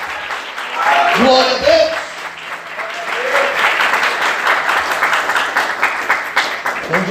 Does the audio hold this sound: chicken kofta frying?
no